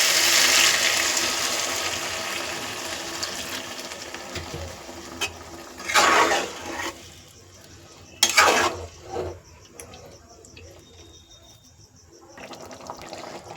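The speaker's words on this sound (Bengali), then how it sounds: "এবার দিয়ে দেবো জল।" Water splashes into a pan of fish curry with softened eggplant, coming in two short bursts of pouring and splashing over a low background hiss.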